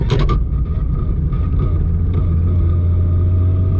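A Barra-engined GT350 fitted with a PPG sequential gearbox launches hard, a broad loud engine roar with a sharp crackling burst at the start, then a steady deep drone held without a shift, with slight wheelspin.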